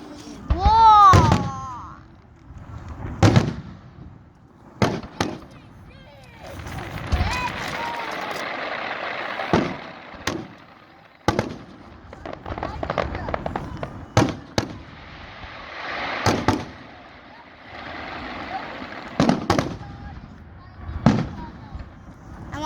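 A fireworks finale at a 2022 Tehachapi show sends many shells up at once. Loud booms and crackling bursts pile up fast, some with whistling rises, as people talk nearby.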